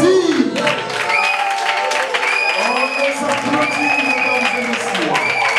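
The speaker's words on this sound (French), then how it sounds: "On les applaudit." Wedding guests applauding the newlyweds at a civil marriage at the town hall, a dense, steady wash of clapping filling the room while voices talk over it.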